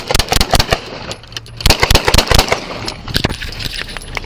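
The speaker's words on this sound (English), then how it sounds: "481, shots fired." A police officer firing a gun during a traffic stop after a high speed chase, a rapid volley of sharp loud shots in quick clusters, close and punchy, with short gaps between bursts.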